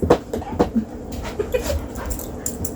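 A large, excitable puppy of about 70 pounds whimpers and yips close by in short, uneven bursts mixed with panting and soft rustling.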